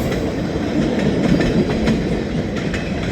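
A pulpwood train pulled by an ELS 400 GP38 locomotive, with a dead locomotive in tow, rolls past, giving a loud, steady rumble with rhythmic clickety-clack of wheels over rail joints close by.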